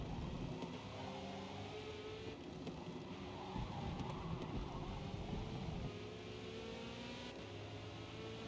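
Race car engines in the Forza Motorsport racing game, including a Porsche, hum and whine steadily with rising and falling pitch and a brief louder surge in the middle, heard at moderate level.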